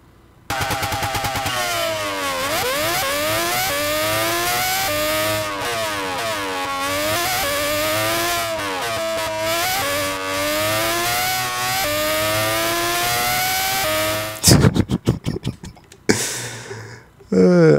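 A Red Bull race car in Gran Turismo 6 roars loudly and steadily, its engine note rising and falling through gear changes for about fourteen seconds before cutting off abruptly, followed by brief clatter.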